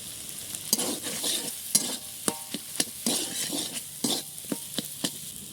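Spinach filling for palak puri, mixed with sugar and ground spices, is stirred in a hot pan: repeated crisp spatula scrapes and clacks over a light sizzle, irregular but frequent, close up and free of talk.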